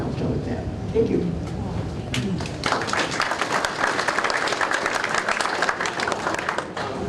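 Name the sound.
applause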